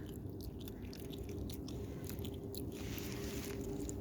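A cat chews food hiding a parasite pill, soft repeated crunching and biting bites close by over a steady background hum.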